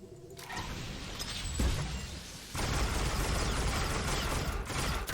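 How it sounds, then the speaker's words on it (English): Tracer Missile ability firing in the video game SWTOR, a sharp launch burst followed by a dense, loud mechanical whooshing and crackling barrage that surges again midway and sustains to the end. "So I'm going to start off with our Tracer Missile."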